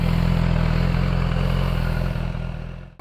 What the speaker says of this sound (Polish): To brzmi Jak to się leciutko wkręca na obroty, coś pięknego.